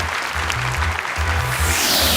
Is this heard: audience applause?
yes